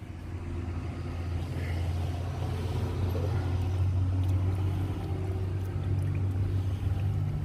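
Steady road traffic from cars passing by, a loud continuous low engine and tyre rumble with no pauses, heard outdoors beside someone flushing coolant on a Mini One.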